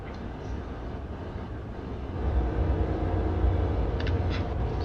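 Class 325 electric multiple unit in Train Sim 2018 running between Hayes & Harlington and Paddington, a steady low rumble that swells after a couple of seconds, with faint brief higher clatter near the end.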